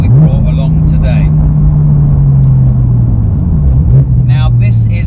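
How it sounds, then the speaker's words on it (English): A Porsche 911 GT3 Touring fitted with a new exhaust system drones along at a steady low engine note, with a slight pitch dip near the end, loud and close. Voices talk over it. "has put a whole new exhaust system on it, and it sounds fantastic"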